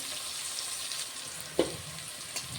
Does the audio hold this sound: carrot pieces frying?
yes